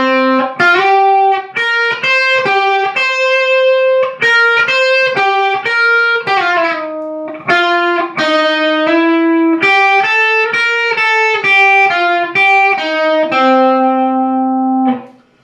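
A slightly distorted electric guitar plays a riff from its second measure, a steady string of picked and bent single notes in repeating phrases over about fifteen seconds, close and loud, ending on a held low note.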